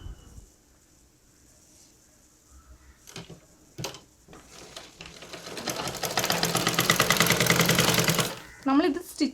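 A sewing machine stitches a churidar top, starting with a few short bursts and then running in a steady, loud, continuous whir for several seconds before pausing, close up.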